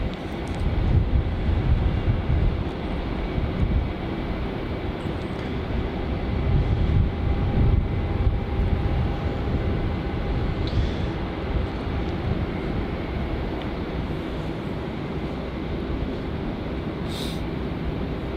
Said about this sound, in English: We do have a takeoff on runway 27. It's Virgin Australia flight 321 heading off to Brisbane.